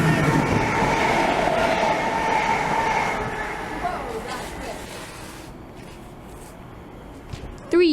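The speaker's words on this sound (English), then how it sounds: "Two pacer trains." Two Pacer diesel trains rumble past with clattering wheels, then the noise fades as they move away, ending with a short squeal.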